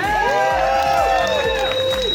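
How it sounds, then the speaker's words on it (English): A crowd at a Pride flag raising for a gender health and wellness group claps and cheers, with loud whooping voices rising and falling over a rhythmic beat of claps, all close and lively. "Come on, clap it up."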